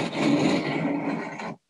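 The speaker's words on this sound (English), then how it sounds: "now it's just a matter of sawing down to the tenon" A hand saw cutting down through wood toward a tenon in pre-industrial joinery, one continuous rasping stroke up close that stops abruptly, with no talk.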